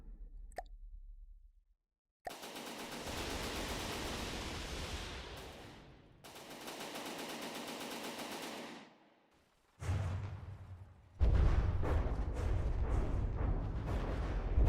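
Gunfire aimed at a creature in the naval combat game From the Depths comes in several loud, sustained bursts of rapid shots separated by short silences, heavy and booming toward the end.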